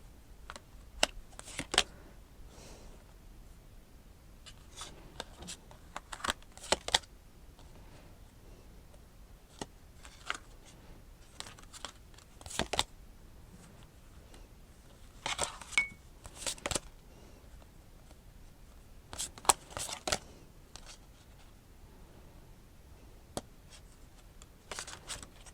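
Playing cards handled and shuffled during a tarot-style reading, heard as quiet, scattered riffles and soft flicks with brief pauses between, close and low in level, no talking over them.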